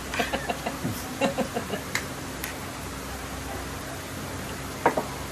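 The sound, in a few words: chicken clucking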